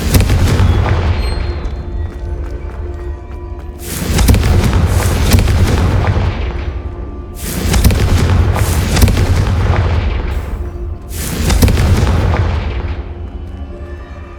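Three heavy, booming blasts of the Confringo spell in the video game Hogwarts Legacy, loud and close, each bursting suddenly and rumbling away over a few seconds.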